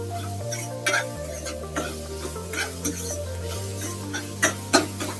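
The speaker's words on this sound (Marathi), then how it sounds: "चवीनुसार मीठ घालते चांगला एक जीव करून घेते" A spoon stirs salt into a pitla mixture with onion and tomato in a pan, giving irregular scraping strokes and clinks over a soft sizzle, against a steady low electrical hum.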